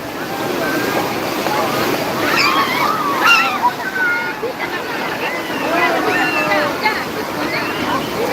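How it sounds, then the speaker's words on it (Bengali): Ocean waves break at Digha beach in West Bengal, a steady wash of surf with gusting wind, while a crowd chatters and calls out close by throughout. "এই যে বিশাল বড় বড় ঢেউ আসছে দেখো বন্ধুরা"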